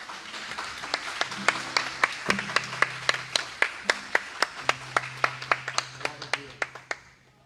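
A church congregation at a worship service claps hands in a steady, regular rhythm, sharp evenly spaced claps repeating for several seconds, with a faint low hum and voices in the background.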